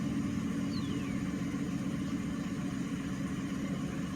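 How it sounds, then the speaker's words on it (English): A 1995 Mercedes S600 V12 coupe engine idles steadily just after a cold start, a constant low rumble and hum with a faint higher whine briefly sliding down. "So that's how the engine started."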